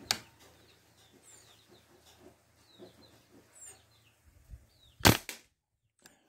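A pellet air rifle fires a 16.66-grain lead pellet during a power and grouping test, giving one sharp, loud crack near the end, preceded by faint outdoor birdsong and small clicks.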